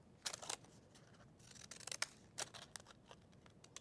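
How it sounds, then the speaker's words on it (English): Decorative scissors snip through folded cardstock at a kids' craft table, a handful of crisp, close cuts in quick bursts separated by brief pauses, quiet overall with no talking. "we're going to grab our decorative scissors again and cut"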